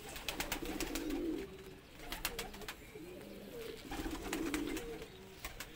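Black Shirazi pigeons coo in soft repeated rolling phrases, with sharp clicks and rustles scattered over them, close by and fairly quiet.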